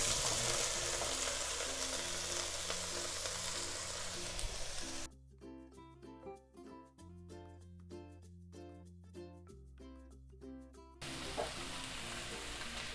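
Carrot, beans, cauliflower and potato frying in a pan with ginger and garlic for veg pulav, giving a steady, close sizzle that drops away for several seconds while a rhythmic tapping plays, then returns.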